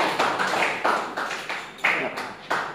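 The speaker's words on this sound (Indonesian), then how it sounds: "Aplaus buat narasumber 1" Applause for the first presenter in a civics education class session: a steady run of moderately loud hand claps, evenly spaced, with no talking over them.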